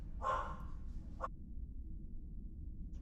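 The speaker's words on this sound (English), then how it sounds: "My dog is barking at something out the window." A dog barks at something outside a window, one loud bark followed by a shorter second one a moment later, then quiet indoor room tone.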